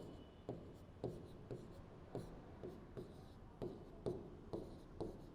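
Chalk or marker strokes on a board during a chemistry lecture on the kinetic theory of gases: a steady series of short tapping, scratching strokes about every half second, faint and close, with no talk.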